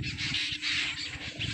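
Birds perched on electric wires above a village field with grazing cows give harsh, squawking calls that run almost continuously, fairly close and steady with no talking.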